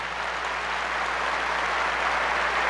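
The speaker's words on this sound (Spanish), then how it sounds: "Démosle un fuerte aplauso." Brief, steady burst of audience applause at a church debate between pastors and a priest, a dense crowd of clapping hands at moderate loudness lasting a few seconds without talking.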